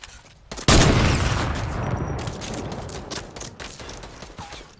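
Gunfire in an online video game shooter: a sudden loud burst of rapid shots, then a dense crackling volley that slowly tails off, with scattered sharper reports after it.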